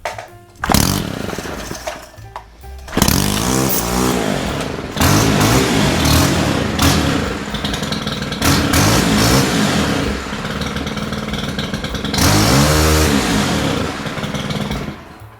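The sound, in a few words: STIHL string trimmer running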